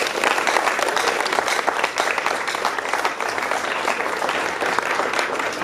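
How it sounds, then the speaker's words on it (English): A large crowd at a school assembly during an old boys' reunion claps loudly and continuously for the school principal, with dense overlapping claps that stay steady throughout. "Please can you clap for her?"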